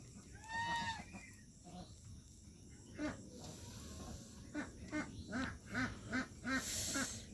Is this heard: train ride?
no